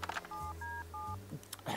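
Touch-tone telephone dialing in the video game Harvey's Neue Augen: three short, clear DTMF beeps in quick succession over a low, steady background hum.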